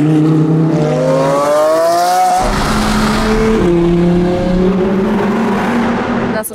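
Sports cars rev hard and drive past a petrol station, a loud engine note climbing and shifting as one car passes close and another follows, with a brief tyre squeal.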